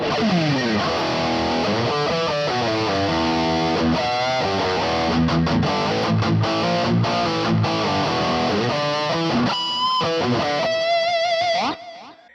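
A distorted electric guitar plays a melodic line through a heavy, high-gain amp tone from a BOSS IR-200 amp simulator, ringing out loudly before cutting off abruptly at the end.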